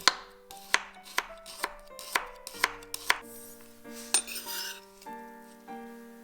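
A knife chops onion and shallots on a cutting board in a string of crisp, evenly spaced close strikes that speed up and then ease off, with faint clinks of utensils and ringing tones after the cuts.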